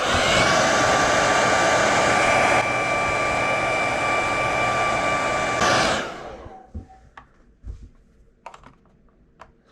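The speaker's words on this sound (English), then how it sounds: "I'm using her hair dryer for, toys." A household hair dryer blows heat onto RC off-road tires, a loud steady roaring whoosh for about six seconds that cuts off, followed by scattered small clicks and handling noises.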